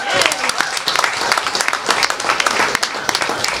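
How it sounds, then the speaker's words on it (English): Loud, dense applause from a live studio audience at a charity radiothon, honouring performers Neil and Lorraine Aiken and Mona Hillis, sustained clapping throughout with no speech over it. "Big round of applause for Neil and Lorraine Aiken and Mona Hillis on the end."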